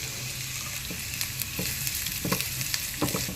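Ginger, green chili and garlic fry in hot oil, making a close, steady sizzle broken by crackles and light stirring clicks.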